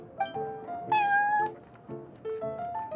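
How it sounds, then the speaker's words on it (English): A cat meows repeatedly in Genshin Impact, several short close meows in an irregular rhythm, clear and fairly soft. "having a cat take care of our new customers would be quite a nice touch"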